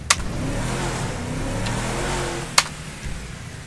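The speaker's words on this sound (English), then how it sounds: "Why is that revving uncontrollably" A car engine in Grand Theft Auto revving hard and steadily with a droning mid-pitched roar, punctuated by two sharp clicks near the start and end.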